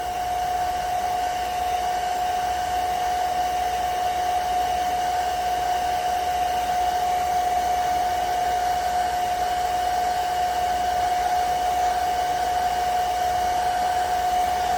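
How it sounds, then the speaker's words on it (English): A blow dryer runs steadily and loudly for the whole stretch, a constant whooshing roar with a fixed motor whine, used for drying G.I. Joe toy vehicles after washing. "A blow dryer. Love a blow dryer."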